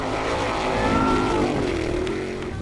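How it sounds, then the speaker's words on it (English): An off-road racing car engine roars steadily at close range during a Formula Offroad event in Hella, Iceland, a loud continuous rumble with a rising, straining pitch like a vehicle under heavy load. "The engine finally working in Eva."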